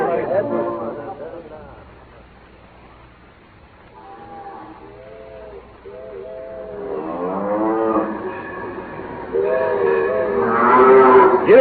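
A herd of cattle blocking a railroad right of way in a Western radio drama lows repeatedly, several drawn-out moos rising and overlapping near the end, with voices mixed in.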